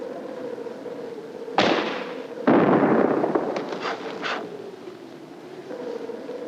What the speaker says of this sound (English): so the bear becomes startled by the explosion